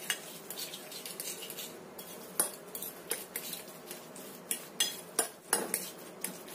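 A utensil stirs batter with an added egg in a bowl, producing steady soft scraping and a series of sharper clinks against the side, close and fairly quiet.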